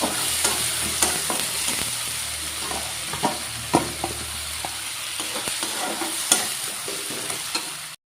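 Ground mustard paste sizzles in hot oil for a fish curry while a spoon stirs it, producing a steady fry with repeated scraping taps throughout, close and without talk.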